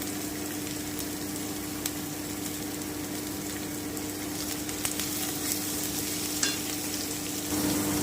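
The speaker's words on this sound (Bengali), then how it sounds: "আমি একটু নেড়ে নিচ্ছি একটু লবণ দিয়ে দিচ্ছি" Vegetable mixture with green chili frying in a pan for vegetable chops while it is stirred and salted: a continuous sizzle with occasional light clicks and scrapes of a spatula, close and without speech.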